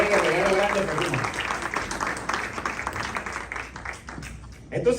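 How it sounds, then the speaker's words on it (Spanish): A church congregation gives a round of applause for the young people during a sermon, loud clapping at first that thins and fades, with a voice breaking in near the end. "Vamos a dar un aplauso a los muchachos"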